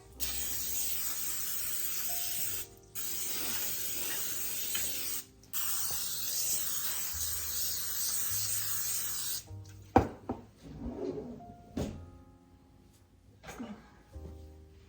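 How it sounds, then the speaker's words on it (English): A spray can of baking spray hisses in two long bursts separated by a brief pause, followed by quieter clicks and handling noises, while greasing a cake pan. "I'm going to spray."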